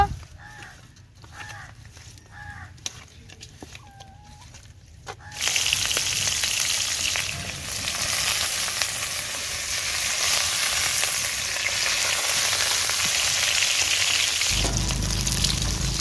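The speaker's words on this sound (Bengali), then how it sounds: "মাছটা আমি এরকম করে ভেজে নিয়েছি বেশি কড়া করব না" Whole shol fish, a snakehead, fries in hot oil with a loud, continuous sizzle that starts abruptly after a quieter, clattering opening and carries on steadily without any speech.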